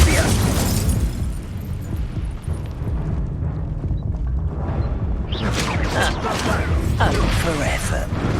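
In Hogwarts Legacy, Incendio fire spells erupt in roaring, bursting blasts amid busy combat noise. A spoken voice cuts in partway through.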